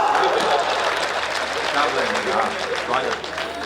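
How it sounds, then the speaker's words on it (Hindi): Audience clapping at a Hindi poetry gathering, a dense, continuous wash of applause filling the room, loud and sustained throughout. "तालियां बजाओ।"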